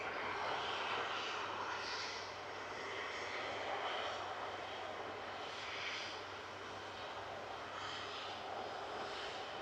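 An Airbus A330 tanker with Rolls-Royce Trent 700 engines takes off at Manchester Airport, a sustained, broad jet roar that swells and eases slightly while holding steady throughout, heard alone without voices.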